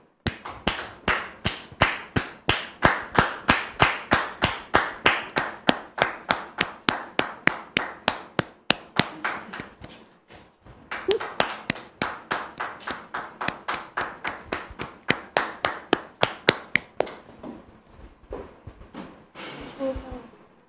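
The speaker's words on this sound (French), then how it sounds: "Sous vos applaudissements, s'il vous plaît." Studio audience of a French television show claps in rhythm, sharp regular beats repeating steadily for about twenty seconds with a short pause midway, loud and close with no voices.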